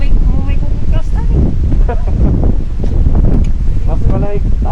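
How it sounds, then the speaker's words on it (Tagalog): Strong cold wind gusts buffet the microphone during a motorcycle ride on a twisty mountain road, a loud rough roar rising and falling continuously, with voices talking underneath. "Grabe yung hangin. Mapapa-stop ka. Matuto dito. Sobrang lakas ng hangin."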